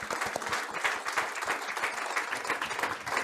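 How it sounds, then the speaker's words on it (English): Audience applause at a Rotary Club of San Francisco meeting, dense and sustained clapping from a sizeable crowd lasting the whole moment. "Please give a round of applause for Dr."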